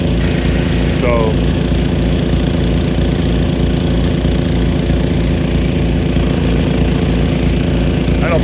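A pump engine drives a Nelson PC-NV100 big gun sprinkler with a .70 taper bore nozzle, running loud and steady outdoors with a constant low throbbing drone, and a brief whine rising over it near the start.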